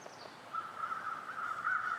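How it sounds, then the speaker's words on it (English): Crows caw outdoors in The Long Dark, a faint, rough, repeated calling at a distance over quiet ambient wind, with no voices. "crows are not helping"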